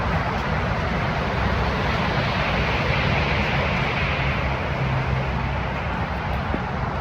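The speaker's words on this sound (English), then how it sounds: "Loud traffic." Loud road traffic on a Portland street, a dense continuous roar of passing vehicles that fills the whole stretch without letting up, with no talk over it.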